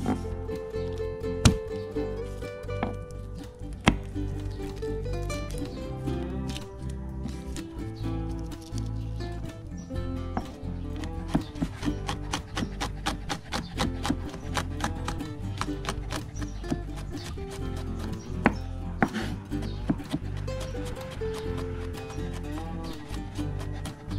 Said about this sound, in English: I'm going to peel the skin, chop it, and make it into garlic oil for garnishing